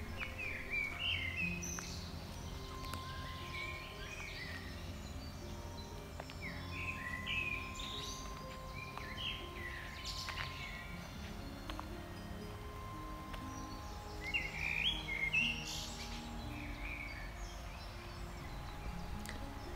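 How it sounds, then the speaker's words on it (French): Birds sing in a forest beside a stream, with several separate chirping phrases that rise over a steady, soft background of running water and insects. "les chants des oiseaux"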